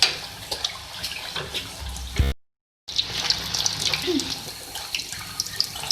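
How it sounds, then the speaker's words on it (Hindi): Bottle gourd pooris frying in hot oil after being flipped, giving a steady bubbling sizzle with a brief dropout partway through, fairly close and without talk. "ये देखिए फ्राई हो रही है"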